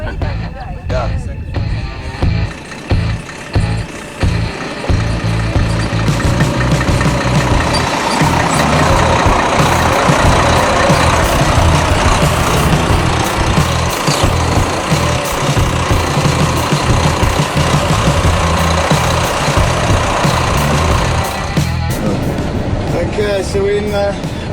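A UD Trucks Quester 8-liter diesel engine idles at a truck launch event, a loud, steady low rumble with knocking vibration running throughout while people talk nearby.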